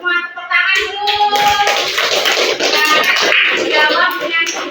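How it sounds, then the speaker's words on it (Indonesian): Classroom of children clapping hands together for a group that answered correctly, a dense steady burst of claps mixed with kids' voices and chatter. "Tepuk tangan dulu."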